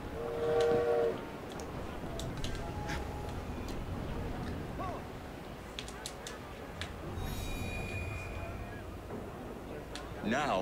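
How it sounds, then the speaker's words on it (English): Train from the Assassin's Creed Syndicate video game, a steady rolling rumble with a whistle or horn tone at the start, high ticking and hissing accents, and another horn-like blast near the end, with a voice over the top. "She's gonna get on the train!"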